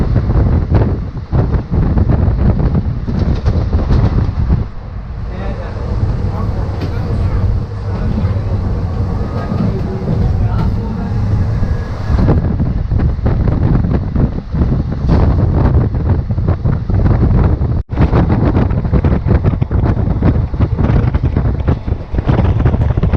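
A train runs from Andhra Pradesh toward the Tamil Nadu border, giving a loud, continuous rumble with rattling and heavy wind buffeting close to the microphone, rising in intensity through the middle.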